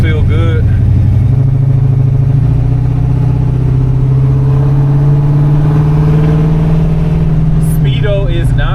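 1951 Chevrolet 3100 pickup truck with a 350 turbo transmission driving, its engine humming loud and steady from inside the cab as revs climb smoothly through a gear, with brief talk at the start and end.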